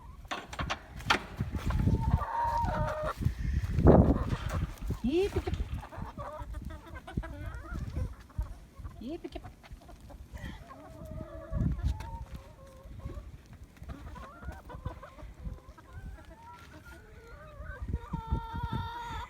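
Several chickens cluck and murmur, fairly quiet and continuous, with occasional louder squawks rising above the background.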